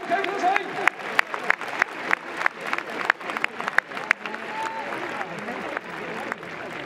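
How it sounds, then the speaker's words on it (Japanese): Stadium crowd applauding the Tokyo Yakult Swallows Junior players throwing the ceremonial first pitch before Game 1 of the 2022 Japan Series at Jingu Stadium: a dense, sustained clapping roar with sharp individual claps and some voices mixed in. "皆さんどうぞ盛大な拍手をお迎えください"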